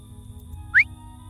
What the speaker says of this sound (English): searching for the source of the whistle I just heard